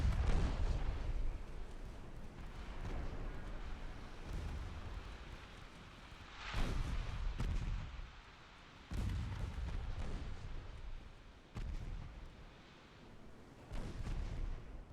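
Naval battle in Ultimate Admiral Dreadnoughts: booming salvos of ship gunfire and explosions roll over a constant rumbling din, with several louder heavy blasts recurring across the scene and no talking.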